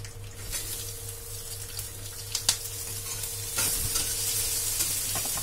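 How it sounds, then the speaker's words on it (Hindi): Long-sliced onions and whole red chillies fry in hot oil for kadhi, giving a steady close sizzle broken by a few scraping stirs of the pan. "दो मिनट भूनेंगे इसे और इसमें हम डाल देंगे लंबे कटे प्याज"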